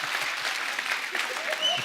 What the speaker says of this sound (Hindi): यार एक बार जोरदार तालियां संजू पाजी के लिए